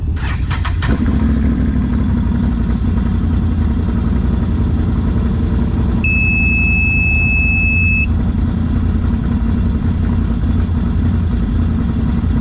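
An off-road side-by-side engine idles steadily and loudly, a continuous close rumble after a brief start, with a stop-engine and limp-home warning suggesting an electrical fault and a thin warning tone midway.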